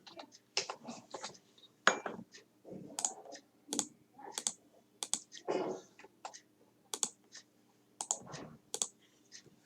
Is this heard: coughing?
no